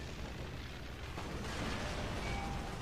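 Jeeps exploding in The Outfit, a continuous loud roaring wash of blasts and rumbling detonations, dense and sustained, growing slightly heavier midway.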